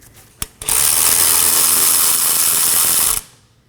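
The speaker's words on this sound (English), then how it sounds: "I'm going to locate our two 14mm slider pin bolts and remove them as well." Rapid ratchet clicking runs steadily for under three seconds, close and loud, after two brief knocks, as a 14mm brake caliper slider pin bolt is turned out on a 2015-2023 Nissan Maxima rear caliper.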